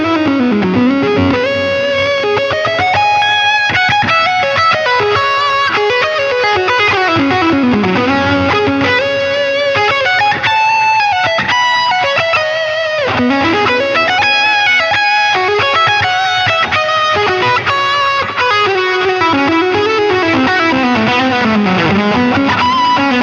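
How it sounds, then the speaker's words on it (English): An overdriven electric guitar runs through a tube driver into a Zen drive on an HX Effects unit, playing fluid, continuous melodic lead runs with bends, loud and steady throughout. "snapshot 3 is that tube driver going into a Zen drive"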